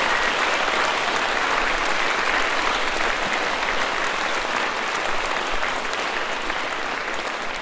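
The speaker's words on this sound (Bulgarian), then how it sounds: "Моля отново силни аплодисменти за тези прекрасни хора." At a Christmas folk concert by a Bulgarian children's folk ensemble, the audience gives loud sustained applause, a dense continuous roar of clapping that holds steady and eases only slightly toward the end.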